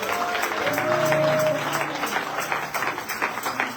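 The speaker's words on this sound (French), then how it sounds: "Est-ce qu'on peut les acclamer aussi?" Audience at a women's church convention applauding an evangelist and guests, a dense sustained clapping filling the hall with a few cheers and voices mixed in.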